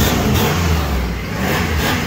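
A Dodge Dakota's 4.7-litre stroker engine, run with no oil, revs steadily and loudly close up for about two seconds, with no talking.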